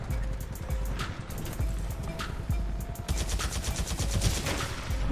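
Rapid automatic gunfire in Titanfall 2 rattles in dense, loud bursts, with repeated shots layered over a continuous low rumble of game action.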